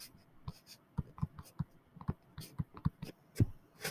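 Pen or pencil strokes on paper as math terms are written by hand, a close series of quick irregular scratches and taps in short bursts, quiet and dry with no voice.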